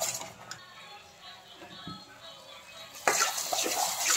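Masala fries in oil for a masala baigan dish while being stirred, a soft crackling sizzle with occasional scrapes of the spoon that swells louder near the end.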